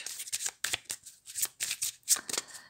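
Tarot cards being shuffled in quick, crisp riffling bursts, several in succession with short pauses between, close and fairly quiet.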